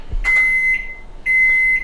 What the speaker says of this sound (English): And I'm going to put the timer on for 35 minutes.